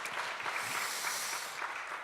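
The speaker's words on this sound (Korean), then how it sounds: "우리 큰 박수로 한번 축복하고 기도하겠습니다." A church congregation at a revival meeting applauds steadily, a dense, continuous wash of clapping filling the whole stretch at an even level with no talk.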